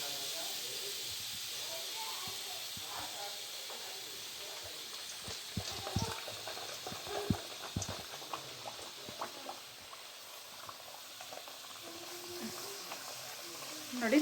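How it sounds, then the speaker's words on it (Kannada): Puri frying in hot oil in a home kitchen, a steady bubbling hiss with scattered sharp crackles and pops, while a voice talks over it. "ಎಣ್ಣೆ ಕಾಯಕ್ಕೆ ಇಟ್ಟಾಗಿದೆ, ಬಿಸಿ ಆಗಿದೆ ಎಣ್ಣೆ. ಈಗ ಒಂದು ಪೂರಿನ ಹಾಕ್ಕೊತಿದ್ದಾರೆ."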